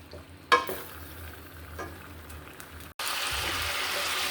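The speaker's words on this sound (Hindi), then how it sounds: "सबसे पहले बीफ को या मटन को ऑयल में अच्छी तरह फ्राई कर लें" Beef or mutton frying in oil with ginger, a steady broadband sizzle with a sharp clatter near the start, then a louder, denser sizzle after a brief drop, as if stirred or turned in the hot pan.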